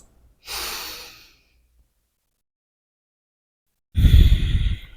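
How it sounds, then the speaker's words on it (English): Two slow, full breaths during an intermediate yoga session: a soft airy inhale, a long pause, then a louder, deeper exhale, close and without talk. "Breathe in and breathe out."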